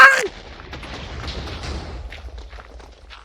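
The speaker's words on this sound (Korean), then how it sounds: "야, 야 터진다 터진다 터진다" An explosion in the Minecraft video game, one sharp loud blast at the start followed by a rumbling, fading debris tail, with faint thuds afterward.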